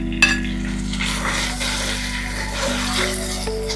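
Beef pieces and their juices sizzle in a pot for a Jamaican-style pot roast with sorrel and spice, a steady close frying hiss with a low kitchen hum beneath and no talk.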